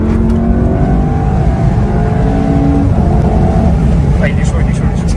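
A tuned Volkswagen Golf 7R with 360 hp and 500 Nm gives a loud, close, continuous engine and exhaust rumble that holds steady throughout, with people talking over it.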